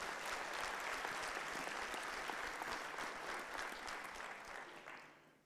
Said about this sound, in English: So let's just give ourselves a round of applause for doing good work.